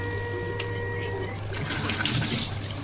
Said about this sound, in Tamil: இப்போ புளி தண்ணி ஆட் பண்ணி பார்த்தா நல்லா ஹை ஃப்ளேமில் வச்சு